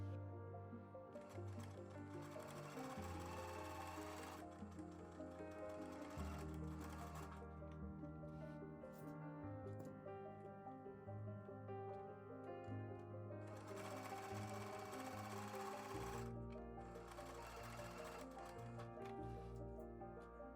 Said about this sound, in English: Take it to your sewing machine and stitch each side.